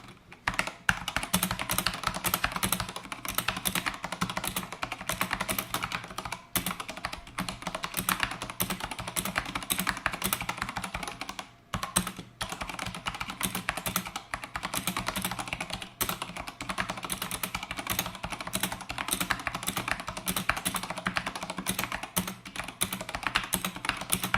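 Mechanical keyboard switches on an Ajazz AK510 clack in a fast, continuous stream of typing, loud and close, with only a brief pause midway.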